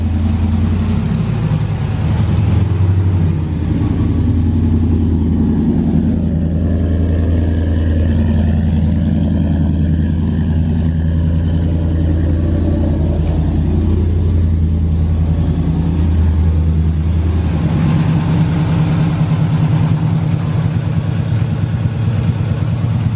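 A cammed Ram pickup truck engine runs loud and close with a deep, lopey idle, rising into revs mid-way and settling back before revving again, with no voices over it.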